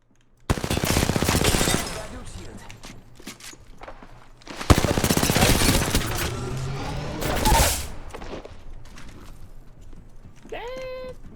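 Rapid automatic gunfire rings out in a battle royale video game, with long sustained bursts separated by brief pauses and a short electronic tone near the end.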